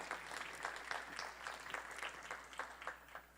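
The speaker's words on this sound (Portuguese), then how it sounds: "Você pode aplaudir o Senhor nessa noite?" A church congregation at an evening service applauds in steady, rhythmic claps. The sound is faint and distant and holds evenly throughout, with no speech over it.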